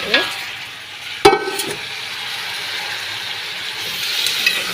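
Mutton sizzles and fries with coriander, cumin and pepper powder in a pot, a steady hiss punctuated by a sharp metallic clank of a utensil and occasional crackles.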